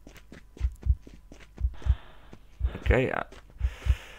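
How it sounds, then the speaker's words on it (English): In the Stalked video game, a heavy heartbeat thumps in steady paired beats, loud and close, while someone speaks briefly over it with a breathy gasp. "so far there's just a heartbeat"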